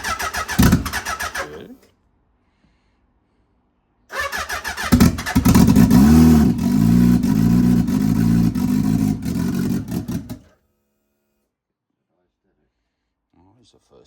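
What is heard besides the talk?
Suzuki Hayabusa turbo motorcycle engine first start and revving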